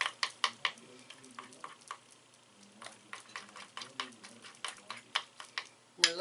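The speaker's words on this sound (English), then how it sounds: "We're looking to mix the chocolate and the peanut butter together." A spoon stirring chocolate and peanut butter together in a bowl, with repeated quiet scrapes and taps in an uneven rhythm and a louder clink at the end.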